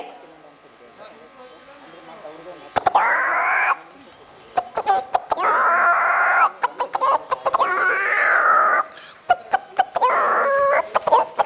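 A voice imitates a rooster calling its hens, with loud, repeated clucking calls in several bursts and brief sharp clicks between them.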